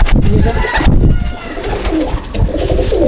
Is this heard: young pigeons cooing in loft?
yes